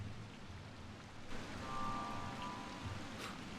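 Steady rain pours in the video game Wild Hearts, a dense, even hiss that holds throughout, with a faint thin whine and soft low rumbles underneath.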